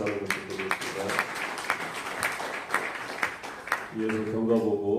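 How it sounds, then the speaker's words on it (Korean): An audience claps at an inaugural thanksgiving service for a church alliance, a moderate patter of hands between stretches of someone talking at the start and end. "박수 한번 부탁드리겠습니다"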